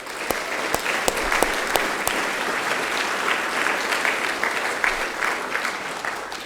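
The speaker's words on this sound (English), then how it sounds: "Let's give Manny another big round of applause." Sustained audience applause at a civic State of the City address, steady dense clapping throughout with a few sharper claps standing out, fairly close and full, no speech over it.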